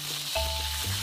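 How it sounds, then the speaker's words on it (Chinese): Local black-bone chicken is frying in a pot to render out its fat, giving a brief, steady, close sizzle with a soft hiss throughout. "将当地的土乌鸡下锅煸出油汁"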